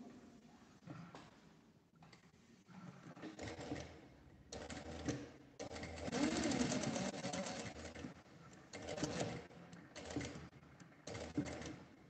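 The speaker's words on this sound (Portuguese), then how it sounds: "eu vou passar uma costurinha, um pesponto, em volta dele todo" A sewing machine topstitches around a small fabric card and coin purse, running in short, fairly quiet bursts separated by brief pauses as the presser foot is lifted to turn the curve.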